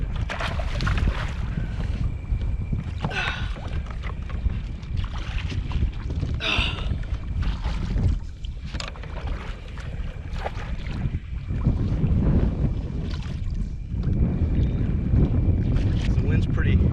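Strong wind rushes over open water around a Predator PDL fishing kayak, roaring and buffeting the microphone in loud continuous gusts, with lapping water beneath.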